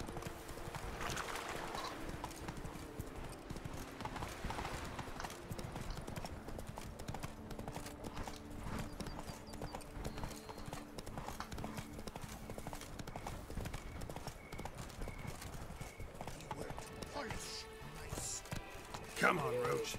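Roach, a horse in The Witcher 3, gallops with a steady, rapid clip-clop of hooves across the whole stretch, faint and continuous, with a brief neigh near the end.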